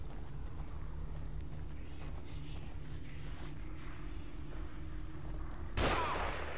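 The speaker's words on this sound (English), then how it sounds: "There's a guy shooting up there." A single gunshot from an enemy in the survival horror game The Evil Within cracks out near the end, a brief loud burst over a steady low ambient rumble.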